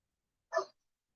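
One short, muffled bark from a dog, heard once and alone against silence, sounding somewhat distant or filtered.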